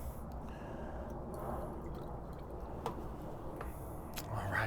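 Separated juices from a smoked competition brisket pour into a pan, with soft dripping and liquid splashes faintly audible under steady background noise.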